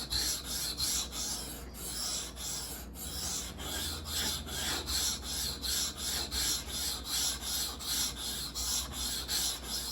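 Knife blade being sharpened on a whetstone, a continuous run of rhythmic rasping strokes, close and steady, repeating evenly throughout with no voices.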